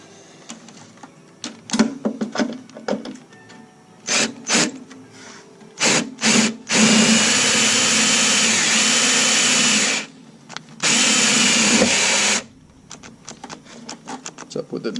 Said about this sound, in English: What's up with the drill?